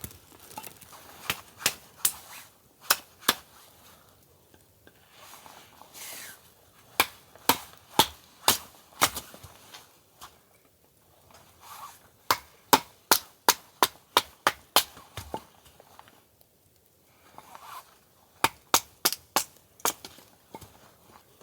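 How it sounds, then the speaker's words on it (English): Repeated sharp axe chops splitting firewood for a campfire in falling snow, arriving in quick bursts of several strikes with short pauses between, close and crisp against a quiet outdoor background. "I might have to split a few pieces just to ensure success with the fire"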